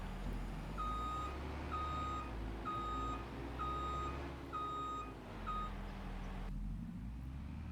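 A wheel loader reversing in the Farming Simulator 25 video game sends out a steady run of evenly spaced backup beeps over a constant low engine drone, with no voices. The beeps stop near the end.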